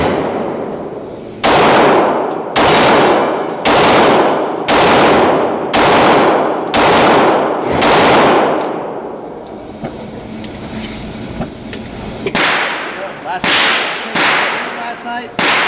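A Kimber Pro Carry II .40 pistol fires 180-grain jacketed hollow points at a range: about eleven loud, close, ringing shots, spaced roughly a second apart, in two strings separated by a short pause.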